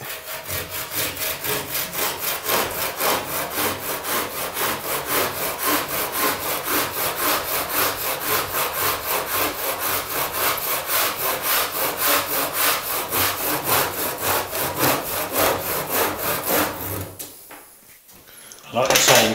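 A handsaw cuts through a length of plaster coving being trimmed to fit, a steady back-and-forth rasp of rapid strokes running close and loud for most of the clip before stopping, followed by a brief knock.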